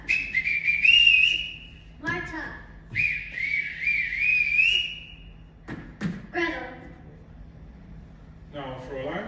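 Several short, shrill whistle blasts call a group of children inside a large house, coming in bursts with pauses between them, over a low room hum, with brief footstep-like thumps and quick bits of voices in between.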